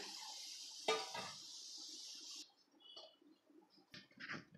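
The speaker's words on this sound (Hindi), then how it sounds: "अब हम इसमें पानी डालेंगे" Water is poured into a pot of frying masala for a Bihari-style suran (elephant foot yam) curry, a hissing, sizzling rush for a couple of seconds, then quieter bubbling and light clinks.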